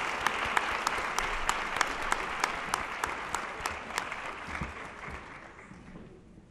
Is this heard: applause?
yes